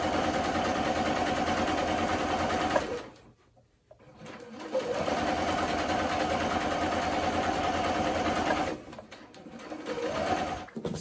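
Sewing machine top stitching a men's dress shirt, a steady fast whirring hum running continuously, pausing briefly twice before starting again, close and even with no talking.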